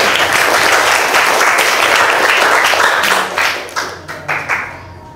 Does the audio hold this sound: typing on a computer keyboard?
no